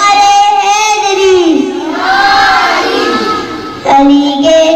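A group of children at a madrasa celebration for the birth anniversary of Imam Ali chant slogans together, loud and close, in rising and falling sung lines with a fresh burst of shouting near the end.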